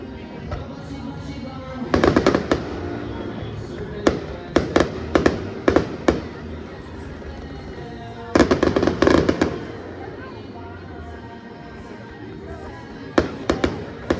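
Fireworks after a minor-league baseball game at night, heard as clusters of sharp bangs and crackles in bursts separated by pauses, moderately distant over a faint crowd murmur.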